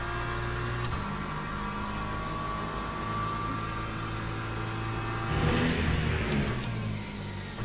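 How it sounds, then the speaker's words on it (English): Le Mans Ultimate hypercars roar past on the circuit in a WEC race with rain coming, a sustained engine drone building to a louder close pass near the end. "Here come the hypercars again."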